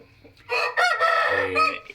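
A fighting rooster crows loudly and close by, a single strained cock-a-doodle-doo with harsh, ragged tones that rises and then trails off.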